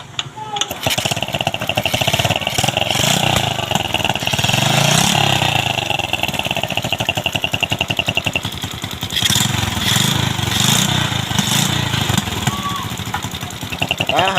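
A fuel-injected motorcycle engine is kick-started and settles into a loud, close, rough running chatter that holds steady for the whole span, with a brief rise in revs midway.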